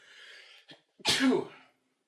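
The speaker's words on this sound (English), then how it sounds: "hold on, I'm about to sneeze" A single forceful sneeze bursts out up close after a brief sharp intake of breath, preceded by a faint hiss.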